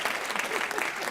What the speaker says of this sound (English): everybody else, give those people a round of applause